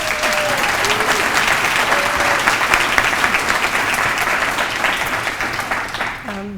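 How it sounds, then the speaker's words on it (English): An audience applauds an award recipient at a city council meeting, a steady, dense wash of clapping that holds for several seconds at full strength before tapering at the end. "Let's all cheer Melinda"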